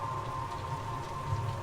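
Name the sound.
rain in a video game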